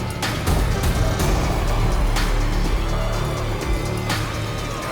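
An off-road vehicle driven on steady throttle through the California desert roars loud and close, with a constant heavy engine drone and rumbling bumps throughout, no voices.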